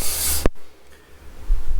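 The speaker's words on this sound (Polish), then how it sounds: "Czarny spray." An aerosol can of black spray paint gives a short, loud, close hiss that cuts off abruptly after about half a second, leaving quiet room noise and faint rustling. It happens during work on a 1972 VW bus.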